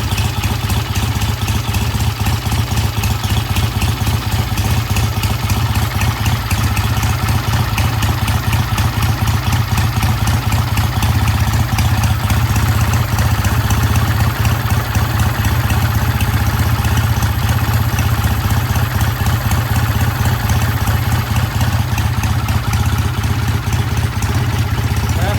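An old British motorcycle engine idles steadily and loudly up close, a rapid, even chugging that holds constant from start to finish.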